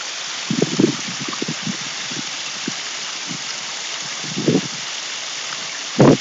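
Water rushes past a domestic flood barrier in a steady, continuous gush, leaking at the top and sides, with occasional soft knocks and splashes over the constant flow.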